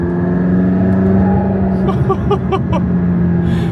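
Car engines rumble and rev nearby as a convoy of sports cars, led by a Lamborghini Reventon, drives past together, a steady low roar with brief higher revs.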